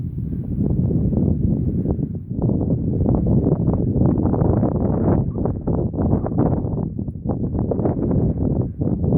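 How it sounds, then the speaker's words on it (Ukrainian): Strong wind on Monte Tremezzo above Lake Como buffets the microphone in continuous low, rumbling gusts that stay loud and steady from start to finish, with no voices. "Тут дуже сильний вітер"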